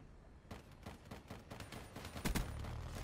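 Rapid gunfire from Call of Duty Black Ops 3 rattles in quick bursts of repeated shots, with a louder, heavier blast near the end; no voices are heard.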